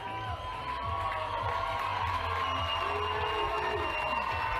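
Large crowd cheering at Zions Bank Stadium during a 4A boys lacrosse final, a steady roar of many voices with shouts and whoops rising throughout, filling the whole stretch.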